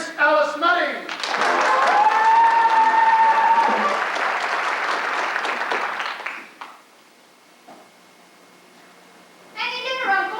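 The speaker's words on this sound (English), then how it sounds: "Ladies and gentlemen, a warm round of applause, if you will, for tonight's guest artiste and London's leading male impersonator, Miss Alice Nutting." A theatre audience applauds a guest artiste, sustained crowd clapping for several seconds that fades away, with brief talking before and after.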